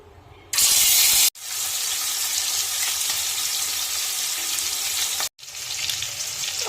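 Silvercup fish fry in hot mustard oil with a loud, hissing sizzle that surges when the fish go in, drops out briefly, then carries on steadily and close.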